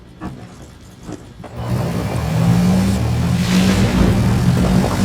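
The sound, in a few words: motorcycle engine in video game Medal of Honor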